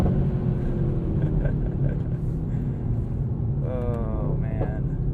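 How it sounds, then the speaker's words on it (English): A 2021 Mercedes-AMG GT63S exhaust note: a deep steady engine rumble heard from inside while driving, with engine tone rising briefly near the end. "The exhaust sounds good."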